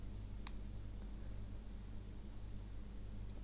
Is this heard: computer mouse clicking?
yes